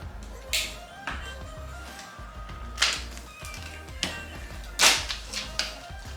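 Scissors cut through a plastic craft piece in several separate crisp snips, close up, spaced irregularly over a quiet background.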